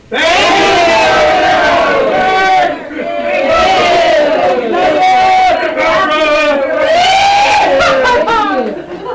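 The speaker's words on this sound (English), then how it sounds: "let's do that applause thing longer" A large crowd cheers and whoops loudly and continuously, voices rising in waves of excited shouting.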